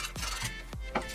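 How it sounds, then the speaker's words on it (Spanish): Short scraping strokes of sandpaper rub against a snail shell, two or three quick rasping passes, close and quiet. "lo primero que hacemos es lijar un poquito"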